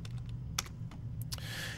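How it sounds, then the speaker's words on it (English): Keys tap on a computer keyboard as a command is typed into a terminal, a few quick close clicks in a short burst over a steady low electrical hum. "So we can type data."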